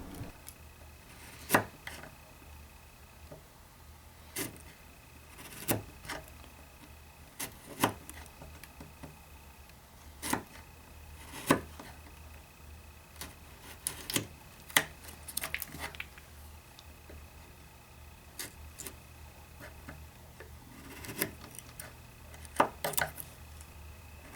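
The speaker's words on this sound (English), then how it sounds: "The grain here is pretty straight, so I'm able to chop down from the end grain without any issues" A chisel chopping down into walnut end grain, with sharp, isolated mallet-driven knocks spaced a few seconds apart, some in quick pairs, and quiet scraping between them in a calm workshop.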